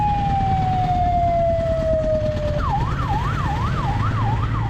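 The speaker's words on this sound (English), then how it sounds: "there's an ambulance behind me" An ambulance siren in Saudi Arabia wails loudly over steady traffic rumble, first a long falling tone, then a rapid rising-and-falling yelp repeating several times.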